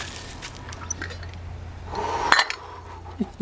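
A pot lid and cookware clink and scrape on a pot stand while pasta cooks, a few sharp metallic knocks rising near the end over low background noise.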